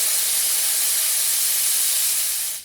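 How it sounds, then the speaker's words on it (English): Loud, continuous hiss of steam rising after a fireball lands in a street, a broad, even rush that holds steady and then tapers off near the end. "now something else is dropped from the sky and there's nothing but steam coming up"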